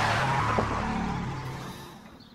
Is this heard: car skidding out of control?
yes